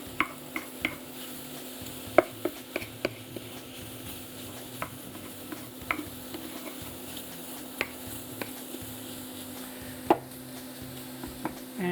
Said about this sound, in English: You can hear almost the sizzle start to sizzle immediately.